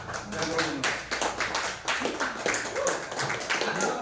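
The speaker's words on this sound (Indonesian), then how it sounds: "Tepuk tangan dulu ah." Rhythmic clapping from an audience of teachers at an Indonesian elementary school gathering, in repeated short bursts of claps with brief pauses between, fairly quiet with voices mixed in.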